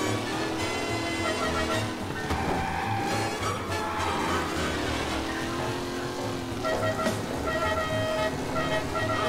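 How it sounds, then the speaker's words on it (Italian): A car horn honks in Mafia: Definitive Edition amid loud, dense game audio with engine drone and music, sounding repeatedly over a few seconds. "Abbiamo anche il clacson elegante."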